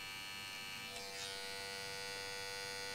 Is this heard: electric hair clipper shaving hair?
yes